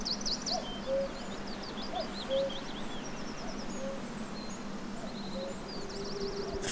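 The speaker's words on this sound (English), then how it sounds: "The densely packed forests that lined its slopes, echoing with the sound of cuckoos." Cuckoos and other birds call intermittently through a forested glen in Scotland, small repeated chirps and tweets sounding at a moderate distance over a steady background hiss.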